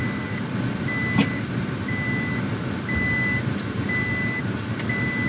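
A truck's warning beeper chirps in a steady, evenly spaced series of short tones during off-road driving, over a low engine rumble and rolling vehicle noise, with no speech.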